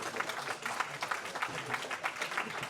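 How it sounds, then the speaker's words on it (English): A crowd applauding three men at a local nostalgia night event, continuous clapping from many people with a slightly uneven, pulsing texture, fairly close and steady. "So a big round of applause for these three guys."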